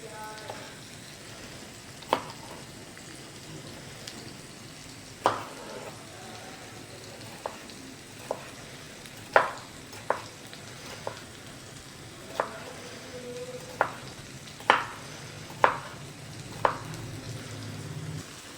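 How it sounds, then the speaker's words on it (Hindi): Okra frying in salt and oil over a medium flame gives a low, steady sizzle with scattered sharp pops and crackles recurring every second or so, close and moderately quiet. "अब भिंडियों को नमक और ऑयल में तकरीबन 10 से 15 मिनट फ्राई करेंगे मीडियम फ्लेम पर"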